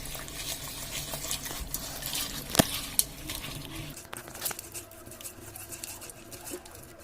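Raw chicken mixed by hand with lemon juice, salt and oil for biryani, giving wet squelching and stirring sounds with a couple of sharp clinks, close and steady, with no talking.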